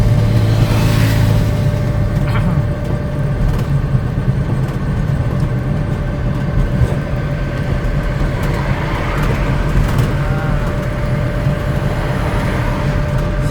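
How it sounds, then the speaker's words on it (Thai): Steady, dense road traffic noise in a congested stretch near a market area in Vientiane, Laos, with idling and creeping engines forming a continuous loud rumble and no talk. "ให้เบิ่งบรรยากาศรถติด"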